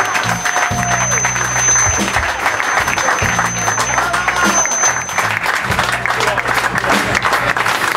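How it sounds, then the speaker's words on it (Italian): Loud, steady applause from an audience for a female singer after a tribute performance, dense and sustained throughout, with low musical tones from a keyboard or band playing underneath. "Un grande applauso per Stephanie."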